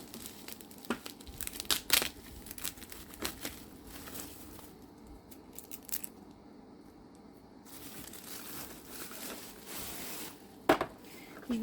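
Crinkling and tearing of packaging as a well-wrapped, slightly flattened Aliexpress parcel is opened, with irregular rustles and crackles near the microphone and a brief quieter pause partway through.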